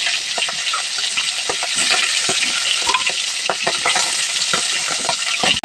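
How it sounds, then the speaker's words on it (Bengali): Fish shallow-frying in hot oil in a pan gives a steady, loud, close sizzle, broken by frequent sharp taps and scrapes of a utensil stirring and turning the pieces. "তো মাছটা হচ্ছে আমি হালকা একটু ভাজা দিব"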